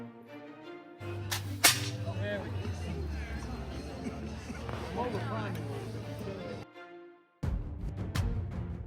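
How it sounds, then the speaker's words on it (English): Musket fired at a pirate-themed demonstration in Ocracoke, North Carolina, a single sharp crack standing out near the start amid crowd murmur and talk, followed by a few later distant pops. "We learned how to load a musket, and then we saw it in action."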